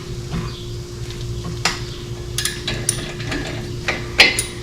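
Wrench tightening the brake caliper bolts on a 2006 Honda Ridgeline, a few close ratcheting clicks and metallic scrapes in brief bursts over a low steady hum, with no voices.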